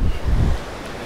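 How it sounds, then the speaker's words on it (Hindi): Loud, steady rushing of a mountain river beneath a swaying hanging footbridge in Sai Bala Valley near Jaglot, Gilgit-Baltistan, heard up close as continuous broadband roar with no talk. "ये पानी का शोर है ये"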